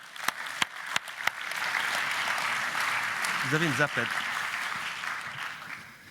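A few sharp claps open, then sustained audience applause greets a guest at the Forum des 100 in Neuchâtel, a broad, even wash of clapping in a hall with a brief voice speaking over it midway.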